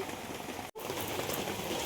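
Steady village rain falls on surfaces nearby, a dense even hiss of drops that breaks off for a split second and then carries on, with no voices heard.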